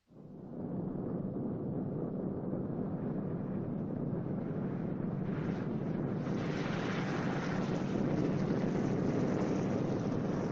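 A 1944 B-29 Superfortress bomber coming in to land, a loud steady engine roar that builds in brightness partway through, heard alone without talking.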